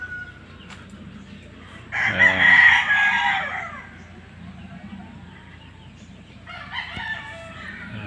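A rooster crows loudly nearby, a long rising call, followed a few seconds later by quieter clucking and another shorter crow against a faint background hum.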